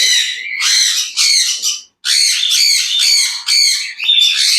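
A pigeon being caught by hand gives loud, close, harsh squawks in rapid bursts, with a brief gap midway before the calls resume.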